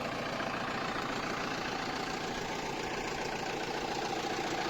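A tractor hitched to a cultivator idles steadily up close, a dense continuous engine drone with a low knocking pulse that holds level and alone throughout.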